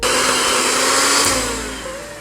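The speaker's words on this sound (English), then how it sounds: "Cream butter and 1 cup of sugar." An electric mixer creaming butter and sugar for a Creole chocolate cake, a loud steady motor whir filling the whole moment and easing off slightly toward the end.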